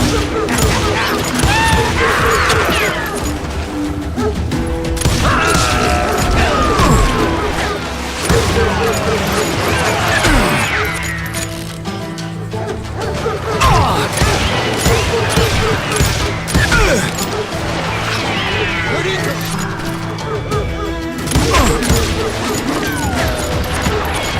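Call of Juarez Gunslinger shootout as the player gives covering fire, sustained volleys of gunshots in rapid irregular bursts throughout, dense and loud, mixed with shouting voices and game dialogue.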